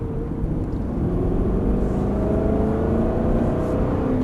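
Aston Martin engine pulling hard as it accelerates out of a corner on a race circuit, a steady loud close rumble with rising pitch, heard from onboard the car.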